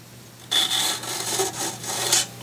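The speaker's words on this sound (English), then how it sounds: "you scrape it on the drill bit" A steel knife blade scraped along a drill bit in knife making, giving a close, loud, rasping metal-on-metal rub of about two seconds, with a few strokes running into each other.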